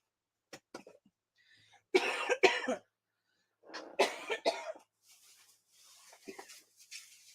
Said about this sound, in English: I can't get too excited. I cough.